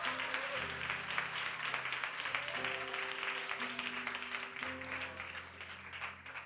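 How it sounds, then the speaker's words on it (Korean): A church congregation applauding during a Sunday sermon, steady clapping sustained throughout under sustained organ or keyboard chords, moderately distant and even in level. "하나님께 영광의 박수 올려드립니다"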